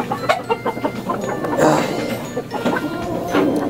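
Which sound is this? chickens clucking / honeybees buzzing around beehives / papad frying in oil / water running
chickens clucking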